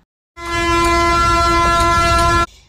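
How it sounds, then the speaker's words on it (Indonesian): A train pulls in and sounds one long, loud horn blast lasting about two seconds over a heavy rumble of rail noise. It cuts off sharply and no voices are heard. "kereta pun datang dan berhenti di sana"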